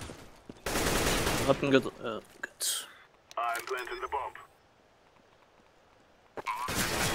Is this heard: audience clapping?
no